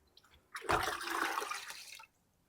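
Liquid fertilizer mixture is poured into a big bucket in one short, splashy gush of about a second and a half, close and alone after a quiet start.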